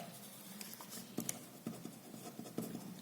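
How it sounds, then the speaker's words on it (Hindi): Pen scratching across paper while a maths exercise is written out: soft, close, irregular strokes and taps with quiet gaps, no voice. "तो लिखते हैं इसका कारण।"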